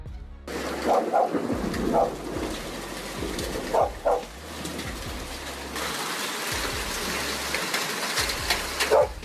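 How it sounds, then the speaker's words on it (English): Hail pours down over Brisbane in spring, a steady dense rattle and patter across the whole scene, with a few bird calls cutting through near the start and end. "Spring arrived, but hail fell like icy pearls over Brisbane"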